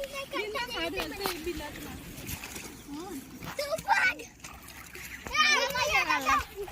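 In a flooded paddy field at rice-transplanting time, someone falls into the water with a brief splash. Children chatter and shout almost throughout.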